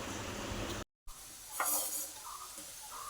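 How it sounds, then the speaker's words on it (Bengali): Potatoes fry in a pan in a home kitchen, a soft continuous sizzle with a brief dropout partway through, then a few clinks and stirring scrapes, fairly quiet with no talking. "রান্নাঘরে এদিকে আলু ভাজা বসিয়েছি।"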